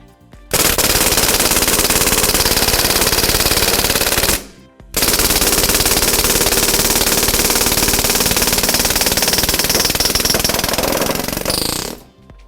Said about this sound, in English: when you're running this at full auto like we just did, 2 CO2 cartridges,